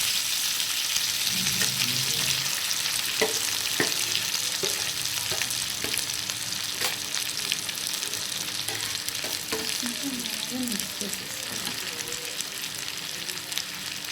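Mashed raw plantain is stirred into a hot frying tempering in a pan, a steady close sizzle running throughout with soft scraping strokes of the spoon scattered over it.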